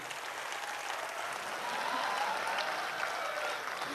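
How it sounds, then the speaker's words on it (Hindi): An audience at a Holi comedy poetry show breaks into applause, a broad, even roar of clapping that stays steady and grows slightly fuller toward the end. "हरियाणा के इस लाल के लिए एक बार आपकी तालियां मिलकर बज जाएं"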